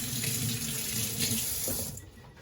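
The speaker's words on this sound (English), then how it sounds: "let me rinse my hand off" A kitchen tap runs steadily as a hand is rinsed under it, a loud close hiss of flowing water that tapers slightly at the end, with no voices.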